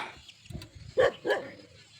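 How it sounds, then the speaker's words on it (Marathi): A dog barks twice in quick succession, sharp and fairly close, against a quiet background beside a village pomegranate orchard. "कुत्रे भुकायला लागले"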